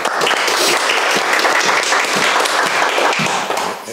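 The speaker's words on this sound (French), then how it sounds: "C'est bien, on les applaudit." A crowd applauds category winners at an evening competition in a loud, close, continuous wash of clapping that holds steady for a few seconds before easing off.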